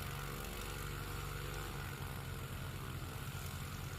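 A STOL airplane at practice for the Sodbusters STOL competition at Hartford, Wisconsin takes off in near-calm wind, its propeller engine droning steadily and loudly at full power throughout, with no talk.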